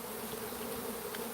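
A dense swarm of tens of thousands of bees clustered behind a bush in Sierra Vista gives off a continuous loud, even buzzing hum close by.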